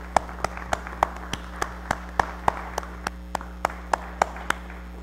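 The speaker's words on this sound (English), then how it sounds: "It's great to hear applause for the first time in 18 months." At a borough council meeting in Madison, New Jersey, a small group claps in a sparse, irregular patter of distinct individual hand claps, close and moderately loud over a faint steady room hum.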